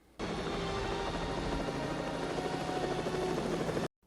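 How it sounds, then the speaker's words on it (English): A helicopter taking off in the 1990 film Die Hard 2 produces a steady, fairly loud rotor and engine drone that holds evenly throughout, with no voices. "When the helicopter takes off"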